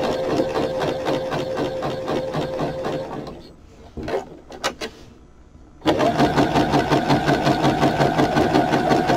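A sewing machine stitches a raggedy fabric journal spine in fast rhythmic bursts of needle clatter, stops for a few seconds of quiet handling noises, then starts again loudly and steadily, close by.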